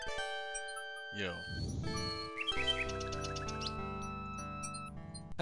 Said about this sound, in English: The nightingale only looks at Alexander curiously and continues to sing.